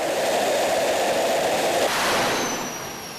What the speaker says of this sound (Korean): 불꽃과 함께 엄청난 세기의 바람과 소음이 뿜어져 나온다.